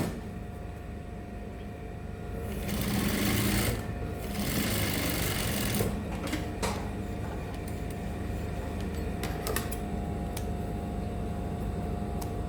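A sewing machine top stitching a curved seam on culottes, a loud, close, continuous mechanical whir that starts up and then holds steady, with small clicks and no talk.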